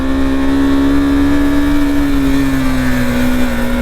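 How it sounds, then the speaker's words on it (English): A KTM Duke 390 single-cylinder motorcycle revs hard in first gear while accelerating onto a highway. The engine gives a loud, steady, high-pitched drone up close, with its tone holding nearly level as it runs. "What a screamer of an engine."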